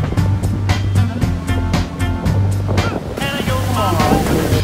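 Ocean surf breaks on a red-flag beach with a steady loud roar of waves and gusts of wind buffeting the microphone, the wash surging and churning throughout without any speech.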